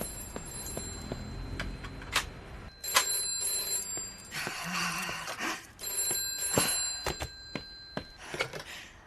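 A telephone rings in a French haberdashery shop, the old bell-like trill repeating in short bursts several times with quiet gaps between and faint background noise, no one talking over it.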